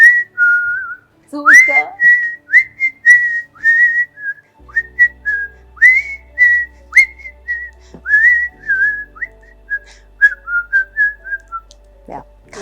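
A person whistles a lively melody, note after note in quick phrases, close and clear, with a few spoken words near the end.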